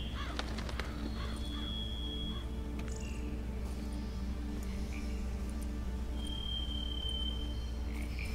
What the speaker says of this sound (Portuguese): O que foi isso? Um corvo.